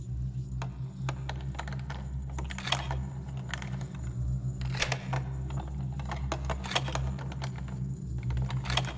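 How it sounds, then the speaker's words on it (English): Lockpicking a door in the 1998 stealth game Thief, a string of sharp metallic clicks and ticks spaced irregularly over a steady low ambient drone. "Oh, here's a door. Let's lockpick this one."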